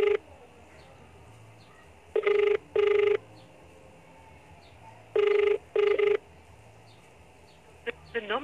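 Ringback tone of an unanswered phone call, sounding in double rings as two pairs of electronic bursts separated by quiet gaps, then a few short beeps at the end.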